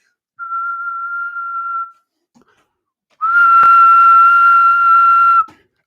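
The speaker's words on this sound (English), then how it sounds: "And it's basically just a whistle." A pure whistle used as a beatbox vocal scratch: one steady tone for about a second and a half, a pause, then a louder, longer whistle with a brief click near its start.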